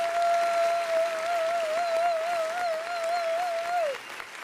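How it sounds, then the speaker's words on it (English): A canned hand-clap effect plays as a dense, steady patter of applause, loud and continuous, with a sustained wavering tone running above it before it fades at the end. "can we get the hand clap?"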